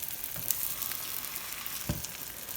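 Beaten eggs for a Greek omelette frying in a pan with the heat turned down from high, a soft steady sizzle with a couple of faint stirring clicks, no voices.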